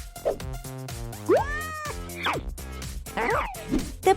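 A cartoonish cat meows in the mobile game Avatar World, a few short, rising and falling mews in quick succession, loud and close, with a brief bright chime between them.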